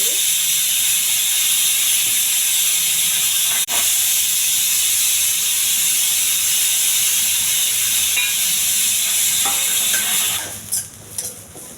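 Pressure cooker cooking horse gram vents a loud sustained steam hiss, steady for about ten seconds and then breaking off into sputtering bursts as it dies down.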